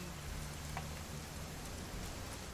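Steady rain falls in What Remains of Edith Finch, a constant even hiss of drops on surfaces with no talk, holding at the same level for the whole stretch.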